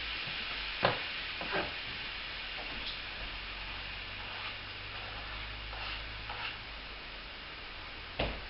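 Chickpeas and tomatoes simmer with browned onions in a pan, a steady low sizzle and bubble running throughout with a few sharp clinks of a utensil against the pan scattered over the clip.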